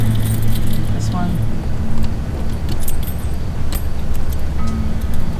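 Keys jangle in short metallic bursts while someone handles a large bunch of keys inside an Airstream trailer at a campground, close and rattly, with a voice talking alongside.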